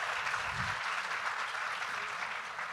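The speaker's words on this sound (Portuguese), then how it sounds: "Uma salva de palmas, minha gente" An audience applauds at a Brazilian literary event, a dense and even wash of clapping that holds steady throughout without breaks and without speech over it.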